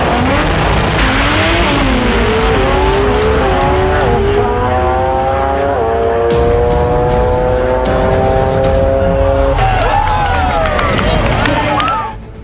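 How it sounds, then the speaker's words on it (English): Drag racing cars at the Atco Pan Americans 2016 event roar at full throttle, their engine notes climbing and dropping through repeated gear shifts; the sound is loud and continuous for about twelve seconds, with some crowd noise underneath. "El Choki, driven by Florito, faces Black Diamond and Josian."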